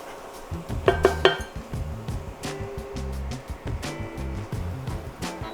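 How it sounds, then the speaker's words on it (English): Crispy, golden-brown bacon is strained from its fat in a pan, with metal clanks and clinks of cookware and utensils, a loud cluster of clatters early, then lighter scraping knocks throughout. "Now that our bacon is nice and golden brown and crispy, we're going to strain it from the fat"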